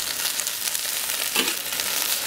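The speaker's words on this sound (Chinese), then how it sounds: "你把这辣椒下 进去，煎炒。" Chili peppers stir-fry in a pan, giving a steady close sizzle throughout with one brief, louder clatter of stirring partway through; no one speaks.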